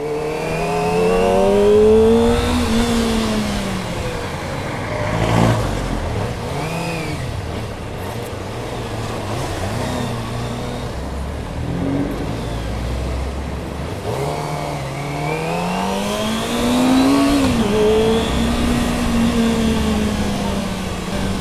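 A loud jeepney engine up close, revving and easing off again and again as the vehicle speeds up and slows, with a steady rumble throughout.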